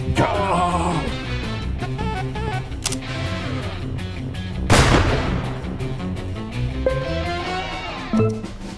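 Revolver fire in Empire of Sin, a six-shooter: one sharp, loud gunshot cracks out midway over a steady bed of game music, with a fainter shot earlier on.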